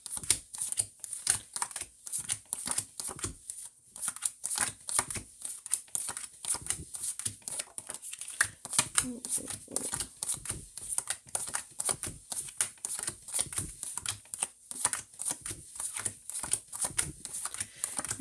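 A deck of tarot cards being shuffled by hand, a long run of quick, crisp riffles and papery flicks in an uneven rhythm, close and continuous with brief pauses.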